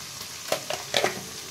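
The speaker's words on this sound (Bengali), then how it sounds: "এবার আমি মশলাটা খুব সুন্দর করে কষিয়ে নেব।" Spice masala for a chana paneer dish frying in a pan, a soft continuous sizzle broken by a few quick stirring scrapes and clicks, close and brief.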